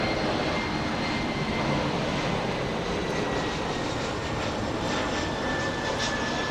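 An American Airlines Boeing 717 jet from Seattle passes at night at DFW Airport, its engines a loud, steady broadband roar with a faint whine running through it, holding level and close for the whole stretch.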